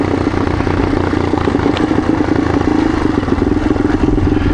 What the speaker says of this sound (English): you can let engine braking take you all the way down here